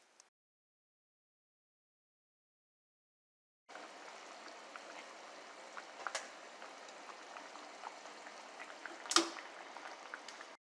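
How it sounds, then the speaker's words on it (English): Golden raisins cooking in a pot start, after a few silent seconds, as a soft steady bubbling and simmering, with faint pops and one sharper tick near the end. "Add a cup of golden raisins and let them to cook for about 5 minutes."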